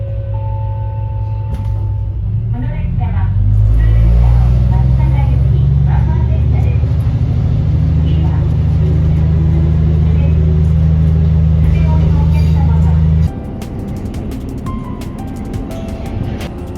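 A JR Meisho Line diesel railcar pulling away from Ise-Okitsu Station, heard from on board: a loud low engine drone rises and holds steady, then drops abruptly as the throttle eases, with faint rattles and clanks over it.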